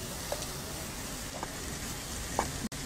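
Chopped cabbage and peas sizzle steadily in a hot pan as they are stirred, a continuous frying hiss with a few faint scrapes and clinks, no talk.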